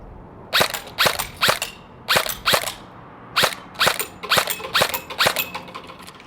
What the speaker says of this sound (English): Let's let off a couple rounds.